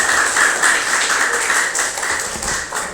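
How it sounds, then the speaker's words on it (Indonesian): A classroom of students claps for a classmate after a smart-home networking lesson, a brief, fairly loud burst of clapping that rises and then thins toward the end. "tepuk tangan."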